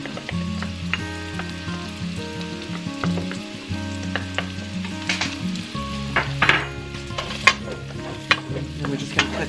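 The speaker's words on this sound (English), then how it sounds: "And we're just going to cook this until the garlic starts releasing some of this flavor." Garlic sizzles and fries in a pan with onions while a utensil stirs, scraping and clinking against the metal in irregular bursts over a constant crackle; no one talks.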